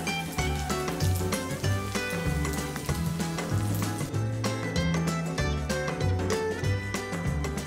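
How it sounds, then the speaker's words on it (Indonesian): Solo sausages dipped in beaten egg frying in a wok, a steady sizzle that is largely covered by loud background music with a repeating beat. "Kita masukkan sosis solonya ke dalam kocokan telur. Lalu bisa langsung kita goreng."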